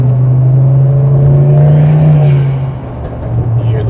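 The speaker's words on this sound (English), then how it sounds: "I'm really hoping you guys can hear the turbo spool." A turbocharged Chevrolet Silverado truck engine drones loudly and close, its turbo whirring as it spools up, then the tone dips briefly before building again.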